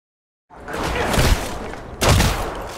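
Heavy gunfire in the battle game Apex Legends, a loud sustained burst after a moment of silence, then a second hard volley kicking in, with no talk over it.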